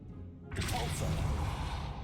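A Repulsor spell cast in Hogwarts Legacy bursts in as a loud broadband whoosh after half a second of quiet, holding a rushing, rumbling swell that fades slightly toward the end.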